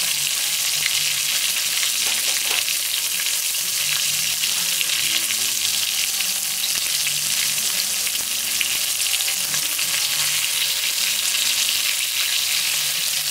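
Oil sizzles and crackles steadily around chicken frying in a pot, a dense, bright hiss that runs without a break, with faint low clinks from the pot.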